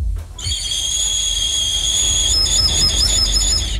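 A piercing, steady high whistle from a miniature prehistoric whistle imitating a bird of prey sounds alone for several seconds, close and loud, with a slight wavering pitch like a raptor's cry.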